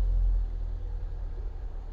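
A sedan with keyless push-button start rumbles to life, its engine settling into a steady, low, close idle with no voices.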